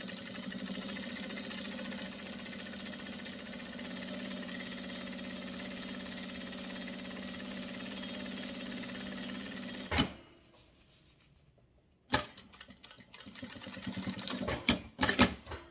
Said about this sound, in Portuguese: Agora vamos para essa costura de segurança em volta de tudo.